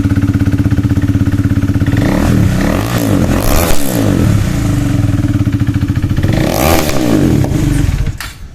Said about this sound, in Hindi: अब लोग ऑस्टिन रेसिंग का एग्जॉस्ट का आवाज़ सुनते हैं।